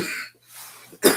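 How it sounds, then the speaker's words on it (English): Two harsh coughs close to the microphone, separated by a brief pause, the second one sharper and louder. "Bad cough. Just had to spit up."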